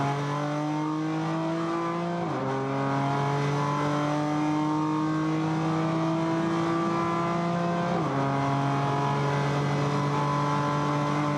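A sports race car at around 170 miles an hour roars with a loud, steady engine tone from onboard, shifting gears twice with brief dips in pitch before climbing again.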